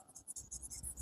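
Pen scratching on paper while writing out accounting entries, quick short strokes in an irregular rhythm, faint and close.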